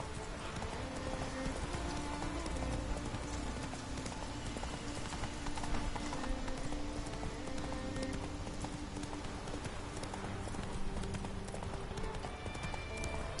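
Roach, the horse in the video game The Witcher 3, trots along in a steady run of clip-clopping hoofbeats. The hooves sound moderately near under a dense, continuous game soundscape.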